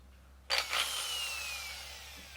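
A power drill kicks in abruptly and whirs steadily at a high pitch, close by, slowly winding down in tone as it runs.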